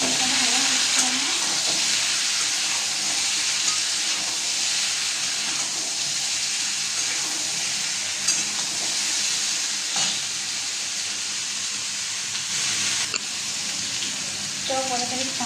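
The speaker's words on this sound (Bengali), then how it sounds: "আর এদিকে মশলাটা ভাজা হচ্ছে আমার" Spices frying in a pan give off a steady, close, full-bodied sizzle that runs throughout, with light stirring noises layered in.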